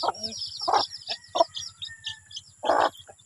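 Hungry three-day-old chicks peep in quick, high, repeated bursts, close by, with a low clucking rhythm underneath.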